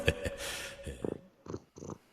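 A cat purrs close up in soft, rhythmic rumbling cycles, breathy and low, rising and falling with each breath over a couple of seconds.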